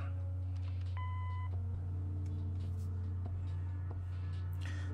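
An answering machine beep in the Kathy Rain adventure game, a single short electronic tone over a steady low hum, followed by faint clicks and quiet background sounds.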